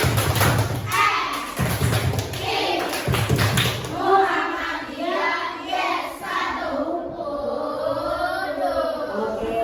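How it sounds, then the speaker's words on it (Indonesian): Islamic primary school pupils in an Aqidah Akhlaq lesson do the 'tepuk MI' chant: a few loud rhythmic group claps at the start, then the children chanting and singing together in a classroom, with a teacher's brief word. "Semuanya coba tepuk MI"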